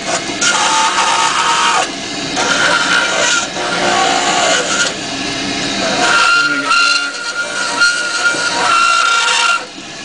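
A rotary tool gouges and bevels a denture, whining and grinding in bursts up close, its pitch shifting as it cuts into the acrylic.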